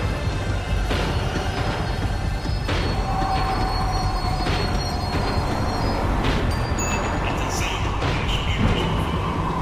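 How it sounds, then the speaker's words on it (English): A tram in the video game Max Payne 3 rolls and slows with steady rumbling, rattling wheels on rails and brief squeals, loud and continuous throughout, with a voice heard faintly underneath. "tram was slowing down, and I'd only just gotten on board."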